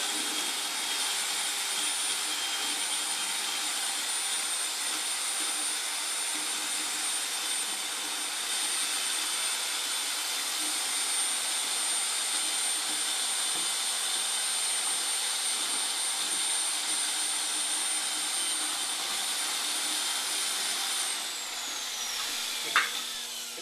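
An electric mixer stirring ceramic glaze in a bucket sends out a continuous, even whirring drone for about twenty seconds, then winds down with a falling whine and a brief knock at the end.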